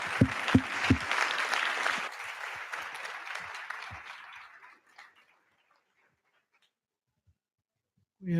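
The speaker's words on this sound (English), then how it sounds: "Applause for him." Applause for a speaker at a Data Beers talk, a dense burst of clapping that thins out and fades to silence after about five seconds, with a brief voice at the very end.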